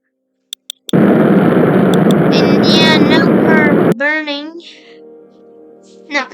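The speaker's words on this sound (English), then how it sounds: "We're burning the engine." A rocket engine burns in the Spaceflight Simulator game as a loud, steady roaring rush that starts abruptly after a few clicks and cuts off after about three seconds, with a voice talking over the end of the burn.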